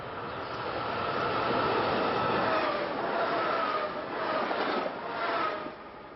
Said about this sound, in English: that was an R3 train en route from West Trenton to Elwyn, just west of Media